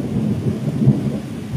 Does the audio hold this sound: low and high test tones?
no